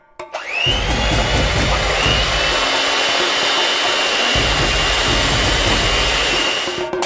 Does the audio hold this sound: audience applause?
no